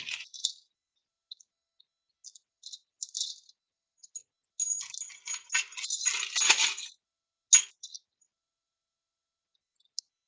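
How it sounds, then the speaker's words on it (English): Valve lifters from a 2005 Honda CRF250X cylinder head are dropped and bagged up, with light metallic clicks and rattles, then a longer burst of close plastic-bag rustling and a final click. "I'm gonna say probably replace both these lifters here, so I'm just gonna bag these up as the same."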